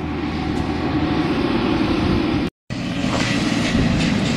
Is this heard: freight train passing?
yes